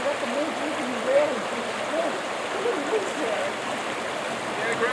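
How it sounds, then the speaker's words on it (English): A clear river fed from Mt Shasta rushes steadily nearby, with a broad, even wash of flowing water and no voices. "Grandpa Pete, this river comes from Shasta. Well, that's what I was And it's clear and clean"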